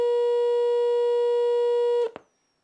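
A steady pure test tone from a function generator plays loud through an audio power amplifier and loudspeaker for two seconds, holding constant pitch with harmonics, then cuts off abruptly with a brief click.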